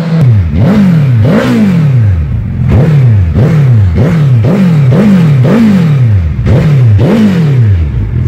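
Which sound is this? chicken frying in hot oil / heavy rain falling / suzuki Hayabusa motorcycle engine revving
suzuki Hayabusa motorcycle engine revving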